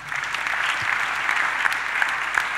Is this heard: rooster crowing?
no